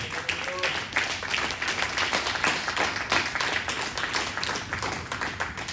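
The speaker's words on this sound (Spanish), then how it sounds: "Denle un fuerte aplauso al Señor." A church congregation applauds together in sustained, dense clapping that fills the room evenly for several seconds, moderately loud with a faint voice underneath.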